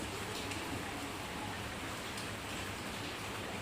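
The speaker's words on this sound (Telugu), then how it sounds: "వాన బాగా పడుతుంది." Heavy rain pours down in a village, a dense, even hiss of drops that stays loud and constant throughout, with no voices heard.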